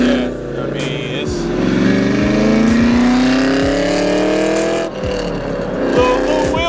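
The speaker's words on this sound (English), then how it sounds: "a little wheel spin there, just a little bit" A 2020 Dodge Charger Hellcat accelerates with a little wheel spin, its engine rising in loud rising harmonics with a gear-change dip, heard from inside the car while someone talks over it.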